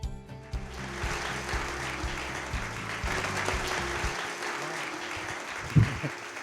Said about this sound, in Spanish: Recibamos con un fuerte aplauso al pastor Ángel León.